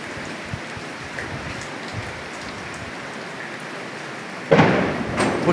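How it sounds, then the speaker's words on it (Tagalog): Steady rain pours down with a constant hiss during a typhoon, joined near the end by a louder gust-driven surge of rain and wind. "palakas ang hangin, mga kababayan ko."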